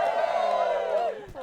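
Wedding guests at a ceremony at Roscrea Homestead let out a brief, bright group cheer and whoop that fades out after about a second.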